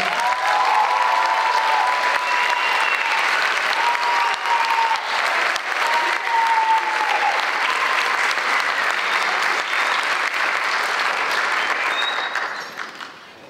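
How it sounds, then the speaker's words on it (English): Sustained audience applause after a school band spring concert, a dense, steady wash of many hands clapping for about twelve seconds before fading out at the end, with faint voices mixed in. "Can we give one more round of applause?"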